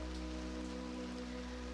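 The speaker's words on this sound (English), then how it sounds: "The rain now splashes" Steady rain splashing and pattering on a surface, a dense continuous hiss of drops at close range with no voices.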